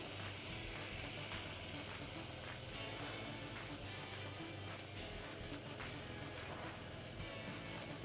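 Halloumi cheese sears in an overly hot pan, giving off a steady, close, dense sizzle and hiss that runs unbroken from start to finish, with no voices.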